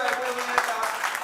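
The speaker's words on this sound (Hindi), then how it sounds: "एक बार आप लोगों को जोरदार तालियां बजा दीजिए जो बैठे हुए हैं" Audience applause at a Hindi poetry recital (kavi sammelan), a steady wash of many hands clapping together at moderate volume, brief and continuous without a break.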